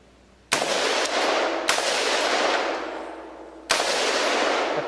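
Three loud, sharp gunshots aimed at a propane tank outdoors, each a sudden crack followed by a long rolling echo that fades slowly, with no talking.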